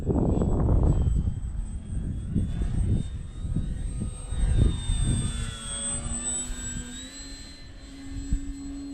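A Ranger 1220mm RC plane takes off and flies in gusty wind, its electric motor whining steadily with rising and falling pitch, loud and close at first with rumbling wind buffeting, then settling into a sustained drone.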